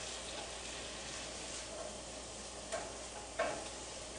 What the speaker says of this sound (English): So we'll just stir that around.